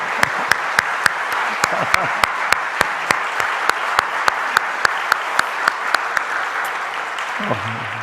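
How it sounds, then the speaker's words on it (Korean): A crowd applauds loudly at a church Sunday worship service, with sharp claps falling into a steady rhythmic beat; a voice comes in briefly near the end. "이분들을 위해서 우리 한번 큰 박수 한번 할까요?"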